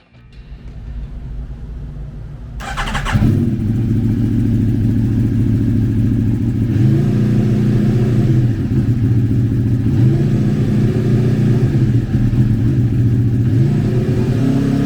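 A 2017 Aprilia Tuono V4 1100 RR Factory with its 1077cc four-cylinder engine cranks and fires up, then settles into a loud, close, rumbling idle broken by several short throttle blips.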